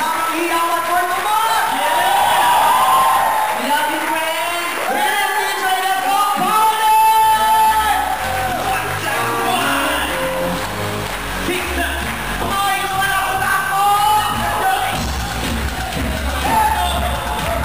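A live comedy show crowd at a tribute event answers with loud applause mixed with cheering, whoops and shouts, a dense sustained roar with voices rising over it.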